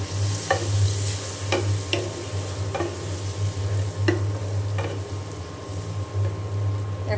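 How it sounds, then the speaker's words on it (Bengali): Spice paste of ground turmeric, chilli, coriander, ginger, cumin and garlic paste fries steadily in a pan, a close continuous sizzle with repeated scraping stirs of a spoon cutting through every second or so. "এখন মশলা খুব ভালো করে আমি কষিয়ে নেব।"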